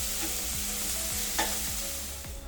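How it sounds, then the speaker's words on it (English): Onions brown in a hot pan with a steady sizzle and fry, while a spoon scrapes and stirs through them in about four regular strokes, nearby and without any talking. "So let us brown our onions."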